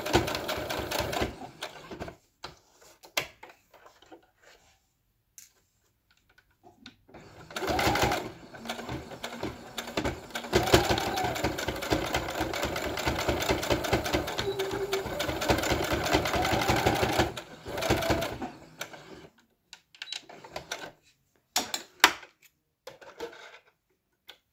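A sewing machine stitches back and forth over elastic on a homemade fabric face mask, running in a loud, steady burst of about ten seconds between short start-stop bursts of stitching.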